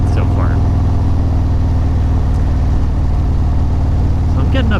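Steady, loud motorcycle engine drone on a road climb toward Sugarbush Ski Resort, ridden on a Kraus Moto Pro Series seat, with continuous wind and road rumble throughout and a faint voice briefly audible.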